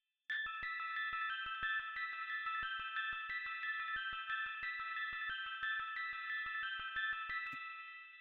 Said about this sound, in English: I found this little bell type sound.